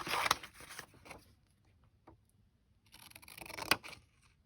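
Scissors snip paper to cut out stamped words, a quiet, close crafting sound. Two clusters of crisp cuts are separated by a lull with a single faint snip.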